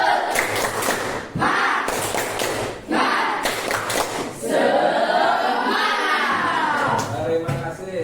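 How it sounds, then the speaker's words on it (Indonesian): A class of students claps in a quick rhythmic 'tepuk semangat' spirit chant, with bursts of group clapping and shouted voices, close and loud in a classroom. "tepuk semangat"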